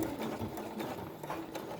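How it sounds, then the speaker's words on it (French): A sewing machine runs a straight stitch through felt, a steady rapid mechanical whir that carries alone for just under two seconds at a fairly quiet level. "je viens faire une piqûre au point droit"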